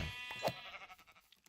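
A sheep in the video game Minecraft gives a short, faint bleat near the start, followed by soft game noises and quiet clicks.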